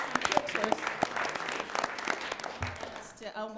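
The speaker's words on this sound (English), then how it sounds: "Let's give Coach Bailey, her coaching staff, and our phenomenal student athletes another round of applause." Applause from a school board meeting audience honoring a coach, her staff and student athletes, steady clapping filling the room before fading near the end as a voice begins.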